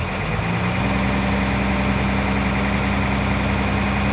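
A car engine runs loud and close at a steady low rumble after starting, with a slight rise in pitch as it is given throttle and the air compressor builds pressure.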